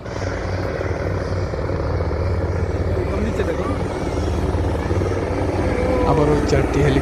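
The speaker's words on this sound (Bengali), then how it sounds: "আবারও 4টি হেলিকপ্টার আসতেছে এদিক থেকে।" Several helicopters pass over a Saudi National Day air show in 2021, producing a steady, loud rotor rumble with a faint chopping pulse that swells slightly toward the end, with crowd noise and voices in the background.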